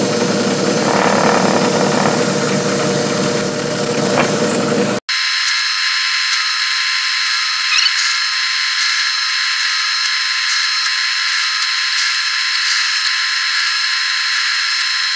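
Small power tool whirring as a Tapmatic tapping head cuts threads into a hole, a steady mechanical hum that briefly cuts out, then resumes as a thinner, high-pitched whine running evenly to the end.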